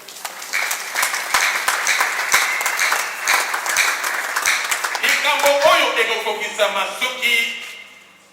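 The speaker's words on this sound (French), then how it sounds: "Est-ce qu'on peut applaudir pour les paroles de Dieu?" Church congregation applauding during a consecration service, loud close clapping from many hands that carries on as a voice begins speaking over it toward the end.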